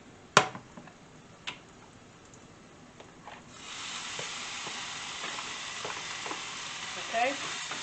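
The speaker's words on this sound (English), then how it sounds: "I dump my meat right in the middle" Sliced cheesesteak meat is dropped into a hot pan and starts sizzling, a steady frying hiss that swells after a few sharp knocks and clatters, then continues evenly with faint spatters.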